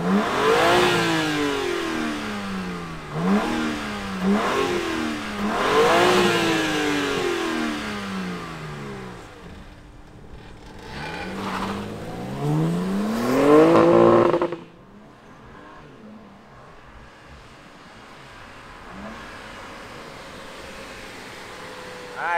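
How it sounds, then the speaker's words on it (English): A 2022 BMW M4 Competition engine with carbon fiber parts revs repeatedly, rising and falling in sharp roaring bursts, then cuts back to a low, rumbling idle. "let's fire up this carbon fiber goodie of an engine and hear what it sounds like"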